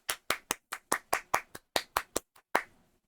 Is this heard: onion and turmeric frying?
no